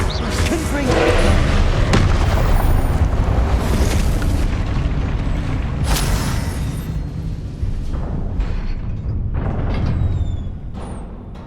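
Confringo fire spell explosions in the video game Hogwarts Legacy, a sustained loud roar of blasts, booms and rumbling combat effects filling the whole stretch before easing off near the end.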